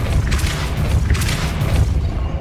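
A Depulso spell cast in the Hogwarts Legacy video game lands as a loud, deep booming blast with a rumbling low end and a couple of surging pulses, lasting about two seconds.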